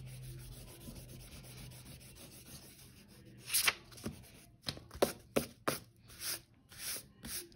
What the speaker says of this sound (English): I'm going to go in here also and erase some of my pencil lines